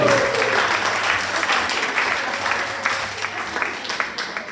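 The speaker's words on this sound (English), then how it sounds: "Round of applause." Sustained applause from a crowd, dense and steady at first, slowly thinning toward the end as individual claps stand out.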